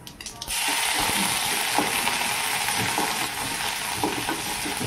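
Cumin seeds and garlic hit hot oil in a pan with a sudden loud sizzle that settles into steady, dense crackling frying, close and alone.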